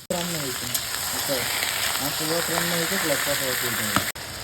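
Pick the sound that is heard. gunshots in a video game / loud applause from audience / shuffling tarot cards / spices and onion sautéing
spices and onion sautéing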